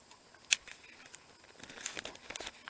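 A plastic bag holding a lost tooth crinkles in brief, faint rustles, with one sharp crackle early on and a louder burst of crinkling toward the end.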